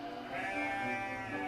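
A sheep in an animated Bible story about Cain and Abel bleats in one long, wavering cry, close and clear, with no voices over it.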